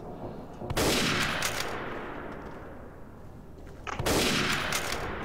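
Gunfire in the World War II shooter Day of Defeat: two loud, dense bursts of shots, one near the start and another about three seconds later, with a noisy battle wash between them and no talking.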